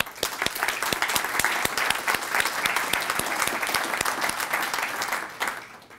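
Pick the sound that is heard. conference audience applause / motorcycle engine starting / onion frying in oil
conference audience applause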